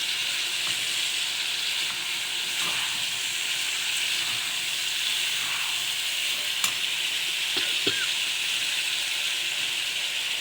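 Crabs being stir-fried in a pan, an even hissing sizzle with occasional sharp clicks and scrapes from stirring, close and steady throughout without talk.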